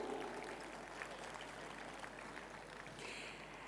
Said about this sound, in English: Let's celebrate this with a round of applause.